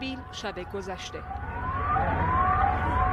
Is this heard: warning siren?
yes